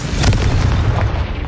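A Confringo blasting spell explodes in Hogwarts Legacy, a loud booming blast with a sharp burst near the start and a dense rumbling body that stays strong to the end, heard alone.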